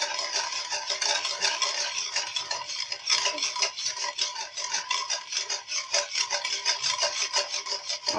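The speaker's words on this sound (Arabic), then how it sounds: "وغادي نزيد كذلك الزيت، وغادي نخلطو مزيان." A spoon stirs and scrapes through a gritty pastry batter of oil, vanilla and coarse sugar in a bowl, giving a continuous close, rasping swish that repeats in quick strokes with no talk.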